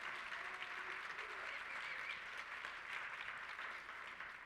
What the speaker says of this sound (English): Cheers, applause.